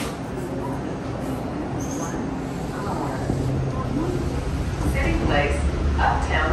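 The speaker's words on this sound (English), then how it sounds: "Okay, so it's the blue line train." A DART Blue Line light rail train gives a steady low rumble under talk and onboard station announcements.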